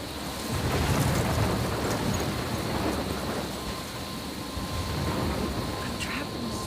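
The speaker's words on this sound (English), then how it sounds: "I'm trapped in a storm?" Heavy rain pours steadily with rolling thunder and some wind in a stormy scene from the video game Life Is Strange, a dense continuous roar with no clear pauses.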